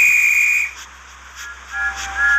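A Thomas & Friends steam engine sounds its whistle, a loud bright shrill blast, then after a brief pause fainter shorter toots follow with a soft hiss of steam.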